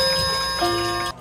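Old clocks in a clock repair shop create a loud, dense wash of steady metallic tones and ringing, with faint ticking mixed in, all close by and then cut off abruptly.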